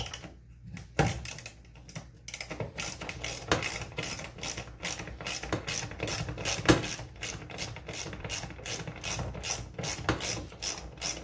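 A 12 mm socket ratchet clicks in steady bursts while unbolting interior and dash parts from a Nissan 300ZX, a close, dry run of pawl clicks that continues for several seconds with short pauses and no talk.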